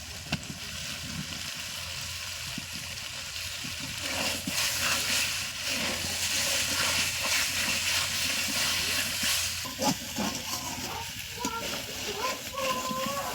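Lightly spiced chicken meat frying in oil in a pan, a steady loud hiss and sizzle running throughout with a voice talking over it.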